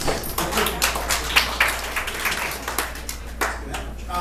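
An audience at a Scottsdale comedy club claps in scattered, uneven bursts, with individual hand claps standing out rather than a full ovation, and quiet voices beneath.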